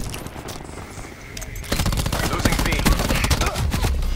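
Rapid automatic gunfire from a Black Ops 4 video game gunfight starts suddenly after a quieter stretch and continues in loud, dense bursts to the end.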